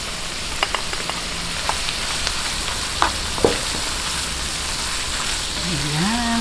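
Shrimp sizzling steadily in a hot pan for Filipino-style seafood paella, a constant close frying hiss with small pops and a scrape or two.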